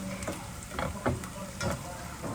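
Garlic browning in a pan for Filipino pork adobo, a steady quiet sizzle and fry with occasional soft stirring scrapes, no speech over it.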